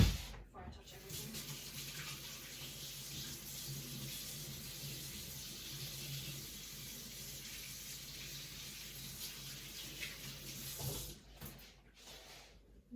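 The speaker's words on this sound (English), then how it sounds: "let me wash my hands first before I touch everything" Hands being washed under a running tap, a steady close rush of water lasting most of the time before it cuts off.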